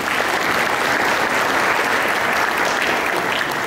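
Audience at a professional event in Malaysia applauding steadily, a dense, even wash of many hands clapping at full volume throughout, with no voices standing out.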